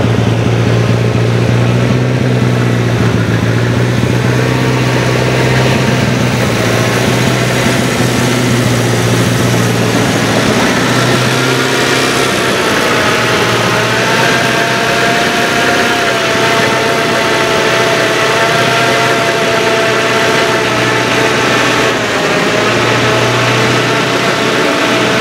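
A 1926 Chevrolet engine runs steadily nearby, a loud, continuous low rumbling idle with even mechanical chatter that holds for the whole stretch, with no one talking over it.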